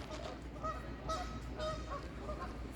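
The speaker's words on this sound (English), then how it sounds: "Oh, those are geese, not ducks." Several geese honk repeatedly at a distance, overlapping calls over a steady low background rumble.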